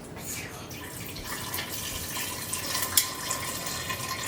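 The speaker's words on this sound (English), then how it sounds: "I'll add a little more water." Water is poured in to make wild blackberry juice, a soft, steady trickle with a few faint drips and splashes, quiet and close, with no voices.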